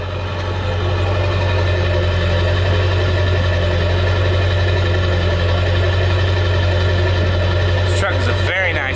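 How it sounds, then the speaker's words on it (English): A 2003 Ford F350 Super Duty pickup with a 7.3 Powerstroke diesel idles with a steady low exhaust rumble, loud and close, continuing unchanged until a brief clatter of handling noise near the end. "Going to give you a sound of the exhaust."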